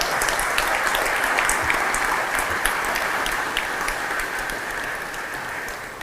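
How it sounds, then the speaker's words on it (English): A banquet-hall audience gives a big round of applause for athletes and nominees at a Rotary sports awards night, dense sustained clapping from many hands that stays loud and steady for several seconds, then tapers slightly toward the end. "all of our nominees a big round of applause."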